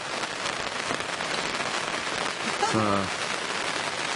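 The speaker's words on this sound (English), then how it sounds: "look at that rain" Heavy rain pours steadily onto a lake during an April carp fishing session at Tyram Hall, a dense, constant hiss of drops filling the whole clip, with a brief voice breaking through near the end.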